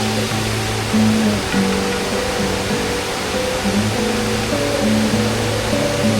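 Continuous rushing water roar of Kirindi Ella waterfall in Pelmadulla, Ratnapura, dense and steady throughout, heard from nearby with no voices.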